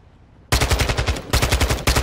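Automatic gunfire in Call of Duty DMZ on the Ashika map: after a short quiet moment, two loud rapid bursts of shots ring out close up, separated by a brief gap.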